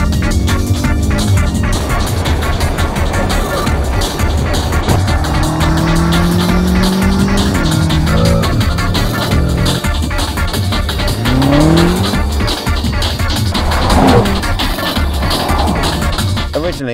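A tuned car with a DMS upgrade launching hard on a quarter-mile drag run, its loud engine roaring continuously with rising and falling gear-change sweeps and screeching tire squeal, all captured up close.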